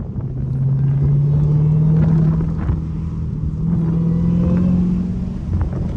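A Dodge Hellcat's engine rumbles steadily inside the car, its drone climbing in pitch, dropping briefly as it upshifts on its own, then climbing again; no talking.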